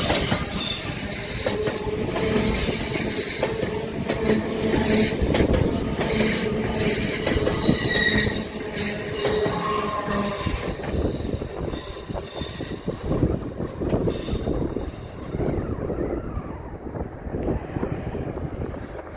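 A train rolls into Manors station in Tyne and Wear, wheels squealing in high sustained tones over a loud, close rumble of railcars, with some wind buffeting the microphone, tapering toward a lower clatter.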